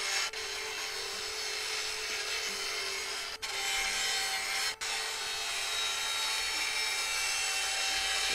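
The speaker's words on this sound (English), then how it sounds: "this rust removal thing is working pretty okay, I guess" Steady abrasive rasping of a sander working rust off a tank's metal surface in Tank Mechanic Simulator, a continuous loud scrubbing drone with two brief dropouts and no talk.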